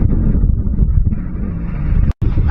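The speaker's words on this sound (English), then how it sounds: "it's freaking windy and I'm getting cold now" Strong wind buffets the microphone on the Jersey Shore in winter, a loud steady rumbling roar with a brief dropout near the end.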